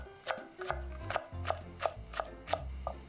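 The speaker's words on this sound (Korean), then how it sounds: "절이는 동안 실파 두 개를 송송 썰어줍니다" Knife chopping two scallions finely on a cutting board for a cucumber side dish: eight or so evenly spaced, crisp close chops, each a sharp tap, with no one talking.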